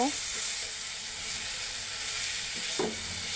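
Chopped potatoes fry in a pan with onion, green chili and whole cumin, giving a continuous loud sizzle and hiss with occasional scraping stirs of a utensil.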